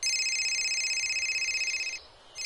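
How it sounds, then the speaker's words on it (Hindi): A phone rings with an incoming call, a loud, close electronic trill pulsing rapidly for about two seconds before a short pause and the start of another ring. "मेरे बेटे का फोन आ रहा है।"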